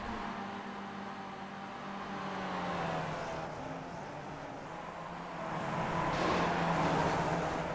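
Several race cars in a racing video game run nose to tail in close racing, their engines a steady, blended drone that swells and fades slightly as the pack holds together, with no talking.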